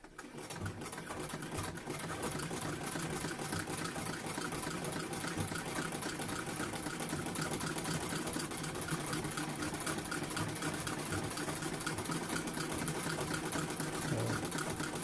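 Vintage sewing machine fitted with a Revco reverse attachment runs steadily at close range, a continuous rapid mechanical whir with a faint hum and no talking.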